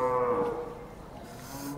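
A cow at the Modnimb cattle market gives a loud, close moo that slides downward, followed by softer market background noise.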